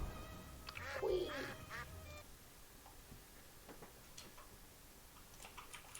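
A Temtem video game creature quacks like a duck as it faints, a short cluster of nasal quacks at the start followed by quieter game ticks and blips.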